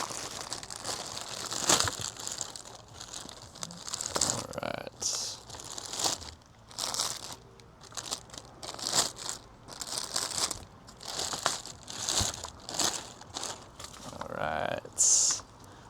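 Thick sealed plastic wrapping around LED projector tail lights for a Toyota 86, Scion FR-S or Subaru BRZ is ripped open. It gives close, quiet bursts of crinkling and tearing that come in a rapid, uneven run.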